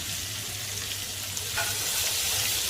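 Sliced onion sautés in a pan with a constant hissing sizzle that swells slightly louder midway, with a faint scrape of a utensil and no voices.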